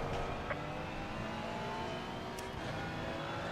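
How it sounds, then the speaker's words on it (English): A race car in a racing sim game at Watkins Glen, its engine droning steadily at high revs with faint shifts in pitch, fairly quiet and alone. "Car coming up behind you."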